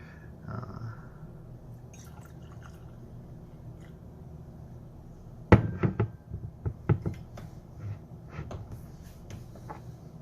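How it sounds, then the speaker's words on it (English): High West American Prairie Bourbon whiskey is poured from the bottle into a glass: a quiet stretch, then a close cluster of glassy clinks, knocks and liquid drips. "Go ahead and get a pour in."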